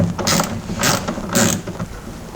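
A wrench loosens a bolt on a Ferrari 308 QV engine with three loud ratcheting bursts of clicking metal, close up, then a quieter mechanical rattle.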